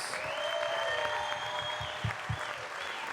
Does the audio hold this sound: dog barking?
no